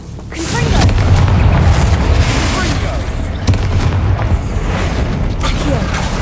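A Confringo blasting curse explodes in Hogwarts Legacy, a loud deep boom that swells into a sustained rumbling roar, with a second sharp burst midway through.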